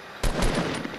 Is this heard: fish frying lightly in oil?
no